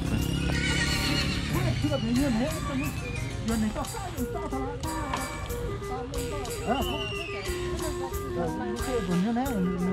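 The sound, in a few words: horse at Bac Ha horse market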